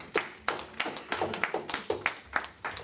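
A church congregation at a Sunday worship service claps in unison to acclaim the Lord, a steady, rhythmic series of sharp claps about two or three per second, close and fairly loud.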